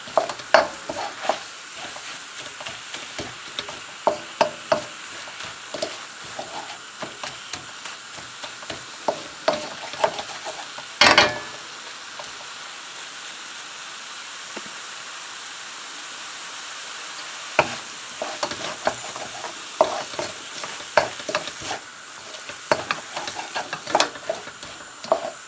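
Seafood egg noodles stirred in a hot pan, with rapid repeated utensil scrapes and taps over a continuous sizzle, close and busy, and a brief louder clatter near the middle.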